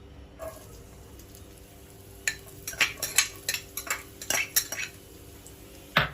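Carrots go into hot oil in a kadai and get stirred. A spoon scrapes and clinks against the metal in quick irregular bursts over a faint background hiss, fairly quiet and close.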